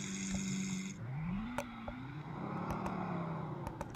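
A Lamborghini Aventador S in the Roblox video game pulls away, its synthetic engine tone gliding up in pitch as it accelerates, continuous and fairly quiet, with a few sharp clicks.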